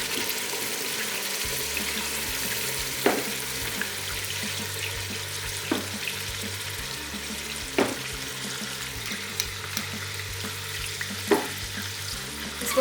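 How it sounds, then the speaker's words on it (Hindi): Chicken with yogurt and spices cooks in a pot, a steady frying sizzle running throughout with a low rumble beneath and a few sharp clinks of stirring at intervals. "इसको हम 2 मिनट के लिए पकाएंगे।"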